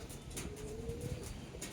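Pigeons cooing inside a loft among racing flyers, a steady low soft coo running through the clip beneath faint background noise.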